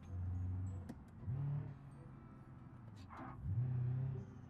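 A simulated car in BeamNG.Drive drifts with its engine revving in repeated surges and easing between them, with brief tire and impact noises.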